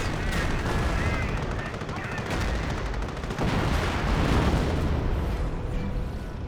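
Artillery shells and rapid gunfire crash through a Company of Heroes battle between Wehrmacht and British forces, a dense, continuous barrage of shots and explosions with no gaps.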